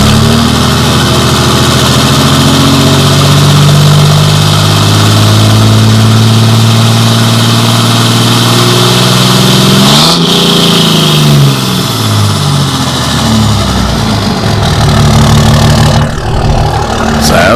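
A modified 2005 Cummins diesel truck engine idles loud and close, a steady deep rumble that briefly dips and swells around the midpoint before settling back into its even throb.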